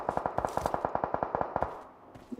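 Rapid automatic gunfire from a video game, a tight burst of about twenty sharp evenly spaced shots over a second and a half, close and crisp, then a short pause with a faint thud at the end.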